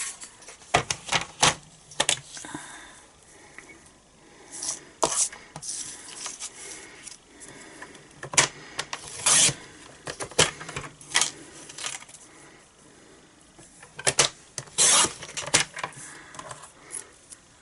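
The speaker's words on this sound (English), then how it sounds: "now we're just going to cut this out using our trimmer." A paper trimmer slices through card stock for a Stampin' Up! owl gatefold card, giving a series of sharp, close clicks and scraping cuts in uneven bursts with quiet gaps between.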